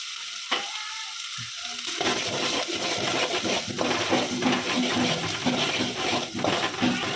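Tomatoes with salt and turmeric cook in a pan for a Telugu tomato fenugreek curry, a steady close sizzle and frying hiss running through after a quiet start, with stirring clinks over it.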